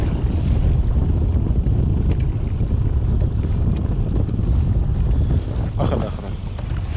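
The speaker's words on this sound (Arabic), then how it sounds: "الريح زاد يا خويا." Strong wind roars continuously over the microphone aboard a small fishing boat at sea, a loud, steady rush with water slapping the hull and a brief voice near the end.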